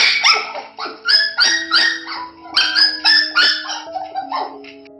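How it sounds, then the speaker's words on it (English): A dog barks close by in a quick rhythmic series of about eight sharp, loud barks with short gaps, alone and without any talking. "I have dog and puppy."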